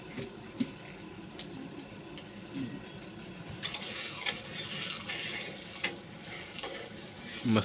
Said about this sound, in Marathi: तूप टाकले तव्यावर